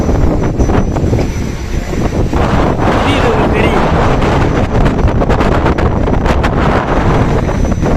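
Strong wind off the sea buffets the microphone in loud continuous gusts, with water sloshing beneath and a person speaking briefly over the roar.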